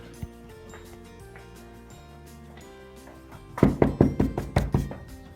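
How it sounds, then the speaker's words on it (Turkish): Knocking on a friend's door, a burst of about eight loud, sharp raps in quick uneven rhythm, close by, following a stretch of quiet background with a faint tone. "Bakalım kapıyı çalacağım."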